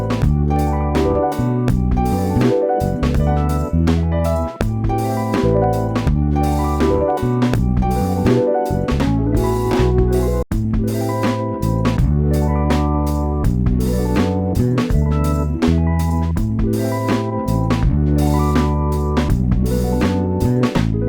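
Bass line built from chopped electric bass guitar samples, played over a looped beat, loud and continuous with steady rhythmic note changes and no talking.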